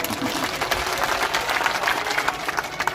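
Scattered audience clapping at a political party gathering, thin and somewhat distant, a brief patter of hands with crowd murmur and no one speaking over it.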